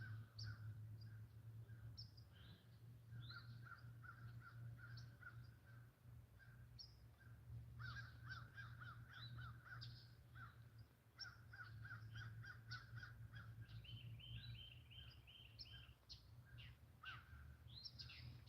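Crows caw repeatedly in uneven bursts over a steady low hum, heard outdoors during a paranormal investigation, with other birds chirping faintly now and then.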